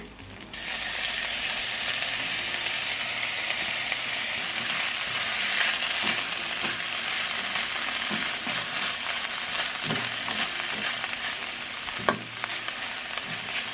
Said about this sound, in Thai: ใส่ผงชูโป๊ผัดแล้วก็ใส่ปลา ทูน่านะคะ